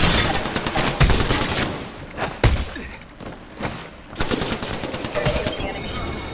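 Rapid bursts of automatic gunfire from an Apex Legends match, loud and close, with several sharp shot clusters spread across the moment and brief lulls between volleys.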